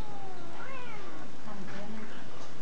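A cat held in a headlock by a monkey lets out drawn-out, complaining meows and caterwauls, loud and close, with speech underneath.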